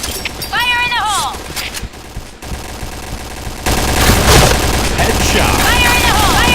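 Gunfire bursts and booming grenade blasts in a hardcore multiplayer shooter match, loud and continuous, with a sudden dull explosion surge midway and electronic chirps layered over the constant rattle of weapons.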